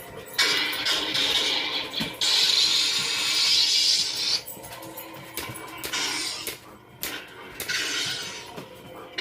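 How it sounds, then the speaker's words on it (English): An LGT lightsaber toy plays a sound font for Rey's yellow saber from Rise of Skywalker, a steady buzzing hum with swelling whooshes and sharp crackling swings over about nine seconds. "that's the sound of the saber at the end of Rise of Skywalker."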